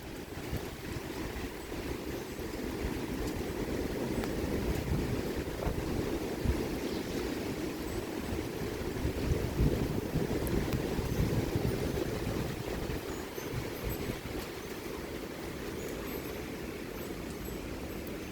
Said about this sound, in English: I think the winds are blowing north or northeast.